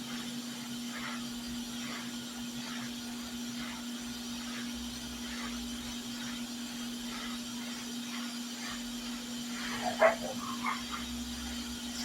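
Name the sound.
puppies barking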